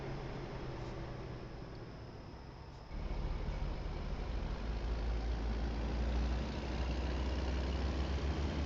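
A truck engine idles in American Truck Simulator with a steady, low rumbling drone that gets noticeably louder and fuller partway through.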